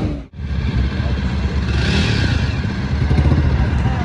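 A red Triumph Daytona motorcycle's engine runs steadily throughout, a continuous mid-pitched rumble with light clatter and a brief dip near the start, heard close outdoors during a Sunday group ride.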